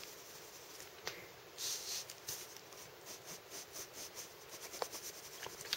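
A ballpoint pen shading a manga-style drawing on paper, making faint, soft scratching strokes in short irregular bursts, close up with no talking.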